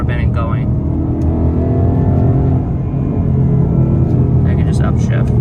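A Ford Mustang GT's engine rumbles and revs as gears shift, a loud, continuous low drone with brief voices at the start and end.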